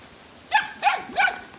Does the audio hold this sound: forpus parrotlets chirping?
no